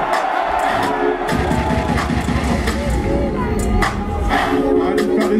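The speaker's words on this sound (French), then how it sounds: "Fais du bruit pour Titi la foule" A live cabaret show crowd roars and cheers loudly, a sustained wash of shouting and applause with a voice over a microphone and music mixed in.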